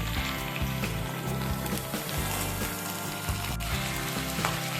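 Beans, eggplant and tomato frying in a pan over medium-high flame, a steady close sizzle with low rhythmic scraping and knocks from stirring, no talk.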